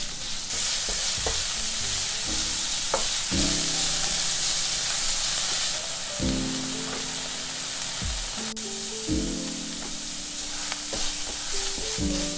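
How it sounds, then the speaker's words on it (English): Minced meat frying in olive oil over medium-high heat gives a steady close sizzle, broken by repeated scraping strokes of a spatula as it is stirred. "Add the minced meat and fry for 5 to 6 minutes"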